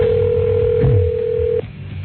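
A phone call to a pharmacy heard through a telephone line: a steady ringback tone sounds for over a second, then cuts off abruptly, with a thin, band-limited quality.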